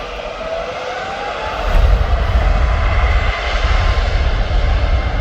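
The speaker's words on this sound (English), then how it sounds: "we've got that EasyJet going out next. That's the A319" An EasyJet Airbus A319 departs at Birmingham airport, its engine roar building from a steady distant rumble to a louder, fuller thrust partway through and holding strong to the end.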